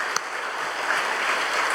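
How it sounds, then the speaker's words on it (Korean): A church congregation at a Sunday service gives a brief, warm round of applause to welcome a new family, a dense wash of clapping heard from a distance. "따뜻한 박수로 환영해 주시겠습니다"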